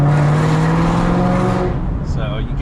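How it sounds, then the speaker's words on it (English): A Ford GT500 fitted with a Corsa Sport exhaust roars loudly up close, then the note drops on a downshift and crackles with a few quick pops. "Downshifts, you're gonna hear that motherfucker pop pretty good."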